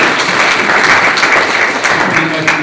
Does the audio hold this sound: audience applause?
yes